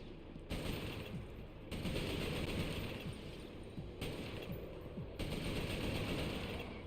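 Rapid automatic gunfire from a first-person video game shooter, continuous and fairly faint, with short gaps between sustained bursts.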